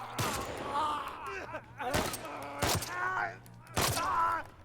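Gunfire from The Last of Us video game cracks out in several sharp bursts, spaced irregularly, with a voice speaking between and over the shots.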